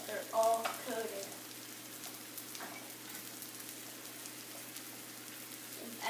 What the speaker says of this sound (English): Now we're just going to mix it around so that they're all coated.